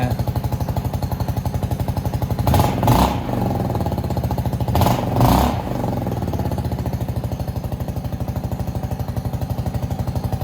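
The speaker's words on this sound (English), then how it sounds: "so it's idling exactly where I want it" A Venom x22GT 250cc automatic motorcycle engine idling at around 1500 RPM, a steady close putter with two brief bursts of louder revving.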